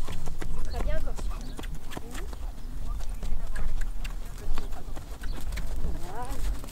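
A mare that resists being ridden clip-clops through her first training session, her hooves striking in a brisk, steady rhythm close by. Someone talks over the hoofbeats.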